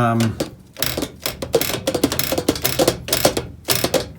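Keys on a Martin saxophone being worked by hand, giving a quick, irregular series of close mechanical clicks and clacks with a voice talking over them.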